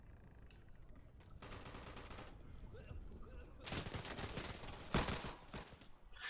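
Machine gun fire in the Day of Infamy video game, made up of fairly quiet, sustained bursts of rapid shots with a few sharper reports, heard at a distance amid battle noise.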